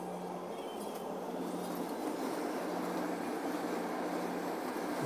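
A light rail train travels between Bambang and Carriedo stations, a steady, loud rumble of wheels and motors rolling continuously with no clear breaks.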